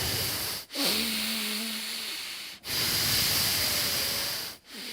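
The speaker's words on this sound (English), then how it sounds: "That's how gross breathing sounds." Forceful breathing through the nostrils as a meditation demonstration: long, loud, hissing breaths close to the ear, with three brief pauses between them and no talking.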